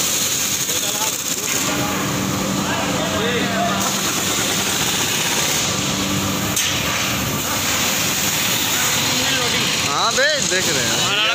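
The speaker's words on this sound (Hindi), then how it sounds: "इंजन लोडिंग होगा अब यहाँ पे देख लो इंजन लोड हो रही है" The engine of a Scooters India Limited three-wheeler runs under load, a loud continuous drone with hiss and rising whine near the end, while someone talks over it.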